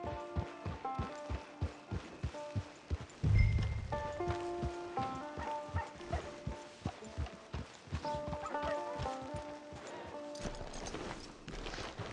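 Steady clip-clop of horse hooves trotting in Red Dead Redemption 2 Online, with a short whinny partway through and light game music tones behind.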